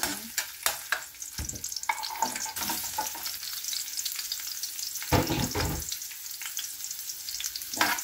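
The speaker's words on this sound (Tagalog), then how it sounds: "Igisa ko muna siya sa bawang." Fish head sautéing with garlic in a pan, with steady frying sizzle broken by several loud clanks and scrapes of a utensil stirring the pan.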